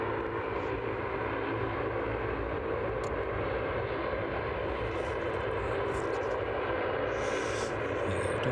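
An ATR turboprop airliner near East Midlands Airport gives a steady, distant droning rumble that stays fairly faint and even throughout, with no voices heard.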